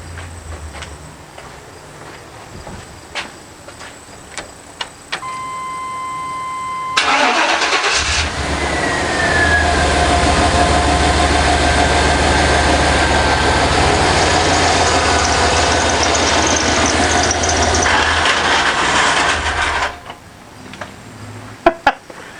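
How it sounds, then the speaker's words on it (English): A 1995 Chevrolet K1500 4x4 truck cranks and fires up, then idles loudly with a sharp, steady squeal from a failing A/C compressor lasting about twelve seconds before the engine is shut off abruptly, leaving faint clicks. "So now I can start the truck, and if it squeals really badly, I'm going to shut it off immediately."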